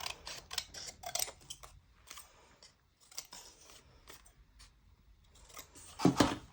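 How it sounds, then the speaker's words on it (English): Scissors snip through a paper sentiment piece for a handmade Christmas journal, a series of close, crisp cuts in short bursts with pauses between, the last one louder. "See if I can cut it straight."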